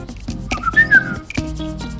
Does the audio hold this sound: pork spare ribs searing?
no